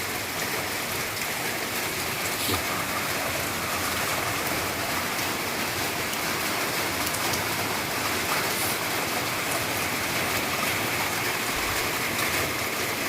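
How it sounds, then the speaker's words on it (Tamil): Heavy rain pours down steadily in a dense, even hiss of falling water that stays loud and unbroken throughout, with no voices over it. "பாருங்கள் ஃப்ரெண்ட்ஸ் எவ்வளோ மழை எப்படி பெஞ்சிக்கிட்டு இருக்குன்றத"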